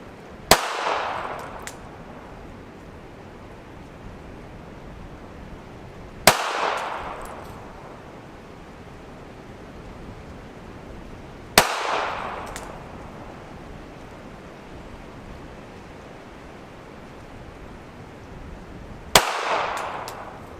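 Pistol shots fired slowly at a target while zeroing an RMR sight, four sharp outdoor cracks spaced several seconds apart, each with a brief ringing tail, over low ambient noise.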